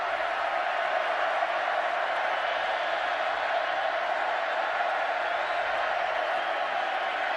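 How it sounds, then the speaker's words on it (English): A packed football stadium crowd in Waco roars steadily during a tense third-and-11 in a 2011 Oklahoma at Baylor college game, a dense, sustained wall of cheering and noise with no letup from start to finish. "Crowd knows it. Getting loud here in Waco."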